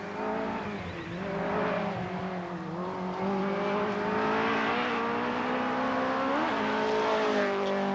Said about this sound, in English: There's much dust around and plenty of fifth gear flat-out driving in evidence.